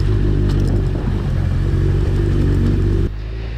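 A Suzuki Hayabusa motorcycle engine idles at unusually high revs after winter storage, a loud steady drone that holds evenly before dropping abruptly near the end.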